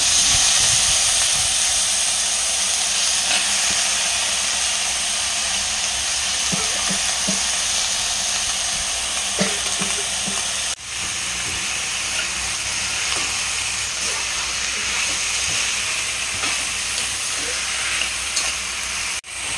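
Chopped eggplant and potatoes sauté in hot oil for a Khandeshi vegetable dish, giving a loud, continuous close sizzle and hiss with occasional faint stirring knocks.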